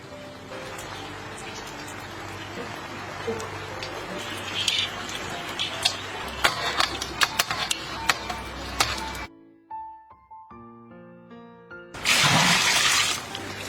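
Live crayfish are rinsed under running water in a sink, with splashing, scraping and clattering shell sounds close by, a pause of quieter knocks, then a loud rush of tap water at the end.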